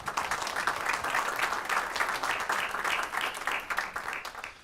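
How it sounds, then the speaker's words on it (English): An audience at a city council meeting claps steadily for an Officer of the Year award, a moderate, even patter of many hands from start to finish. "Let's give him a round of applause."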